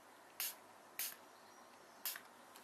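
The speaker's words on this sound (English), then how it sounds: "I'm just going to spray it." Makeup setting spray misted from a bottle held away from the face, three short, crisp hissing bursts spaced apart, close and fairly quiet over faint room tone.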